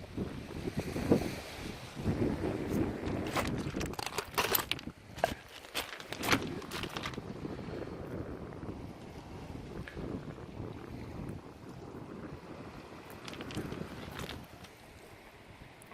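Gusty wind buffets the microphone in uneven bursts at a coastal cove on Vancouver Island's Juan de Fuca coast, with a soft wash of surf behind it and a few scuffing sounds.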